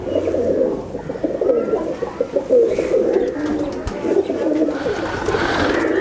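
Chatri pigeons coo repeatedly at close range in a rhythmic, throaty stream of overlapping calls, with some rustling in the background and no speech.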